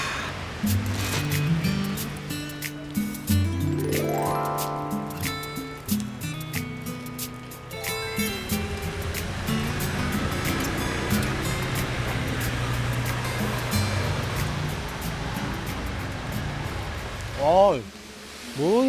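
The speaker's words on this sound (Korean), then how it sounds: "여기도 비가 제법 오네" Steady rain falling outdoors in the town of Punggi, Yeongju, North Gyeongsang, a continuous soft wash of drops close by, with people talking over it throughout.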